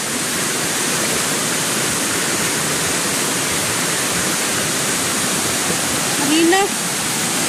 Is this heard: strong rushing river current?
yes